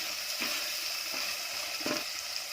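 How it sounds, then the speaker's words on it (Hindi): Carrots, French beans and peas frying in a pan for masala vegetable khichdi, giving a steady, fairly loud sizzling hiss with a few soft scrapes mixed in. No one speaks. "इनको भी हम 1-2 मिनट के लिए भूनेंगे।"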